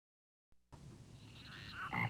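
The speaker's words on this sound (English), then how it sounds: "Frogs." Frogs croaking after a half-second of silence, a dense chorus of rasping calls building in loudness, with sharper croaks near the end of the clip.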